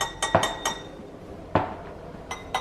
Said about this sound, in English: so what happens when we actually tap the glass?